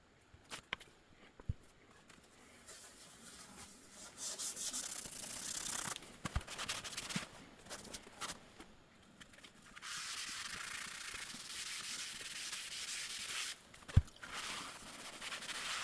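Hand sanding of a surface during the final finishing stage of a build, a steady dry rubbing hiss in long sustained strokes with brief pauses and a few small knocks, fairly quiet and close with no talking.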